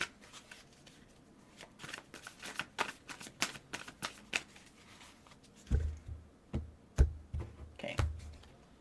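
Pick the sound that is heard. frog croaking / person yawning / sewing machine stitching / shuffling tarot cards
shuffling tarot cards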